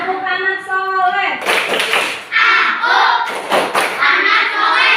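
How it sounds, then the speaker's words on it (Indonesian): A group of children performs the "tepuk anak soleh" rhythmic clapping chant in an Indonesian Islamic classroom, clap bursts interleaved with chanted voices after a teacher's call. "Tepuk anak soleh."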